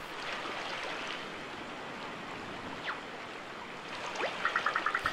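A river trip in the video game Paper Mario The Origami King brings a steady, soft rush of flowing water, with a brief splash or two and a quick series of light chiming taps near the end.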